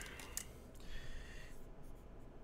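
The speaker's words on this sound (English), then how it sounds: "Write that down." A pen scratching across paper in short, soft strokes, close and quiet, with no voices.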